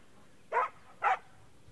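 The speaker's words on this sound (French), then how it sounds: "L'aboiement de jeu fonctionne en grande partie comme l'aboiement de demande." A dog gives two short, excited play barks spaced about half a second apart, fairly close and clear over a quiet room background, with no talking.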